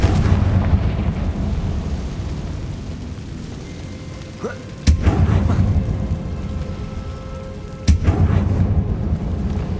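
Confringo blasting spell from the Hogwarts Legacy video game, heard as two sharp, loud booming blasts a few seconds apart over a dense rumbling game ambience.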